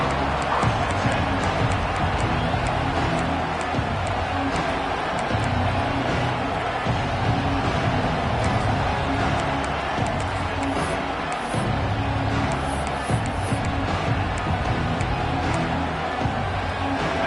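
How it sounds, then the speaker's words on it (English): Football stadium crowd at a Clemson versus Nebraska game, a dense, loud, continuous roar and cheer that holds steady throughout without breaks. "This crowd ready to make its presence known."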